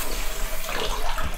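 Water runs in a steady, rushing stream from a tap while noodles are being made in a video game kitchen, loud and continuous with no talking.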